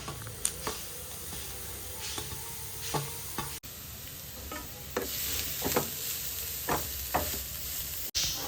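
Vegetables and beetroot stir-fry in a pan: a steady sizzle broken by repeated scraping stirs of a spatula at an uneven rhythm, close and moderately loud, without speech.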